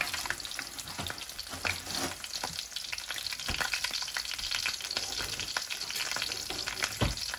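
Taro frying in hot oil in a worn pan, a dense continuous sizzle and crackle with occasional sharper pops and stirring scrapes, close and moderately quiet, with no talking.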